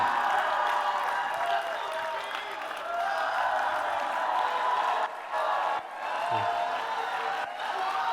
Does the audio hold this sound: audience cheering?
yes